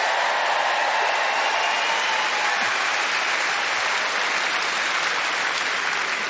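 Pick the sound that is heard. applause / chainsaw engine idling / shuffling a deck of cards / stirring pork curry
applause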